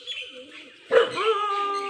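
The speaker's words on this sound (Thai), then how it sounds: "เออจะต้องเห่ากันทุกวันทำไม" A dog barks in one sharp burst about midway through, after a stretch of faint background sound, with some lingering noise afterward.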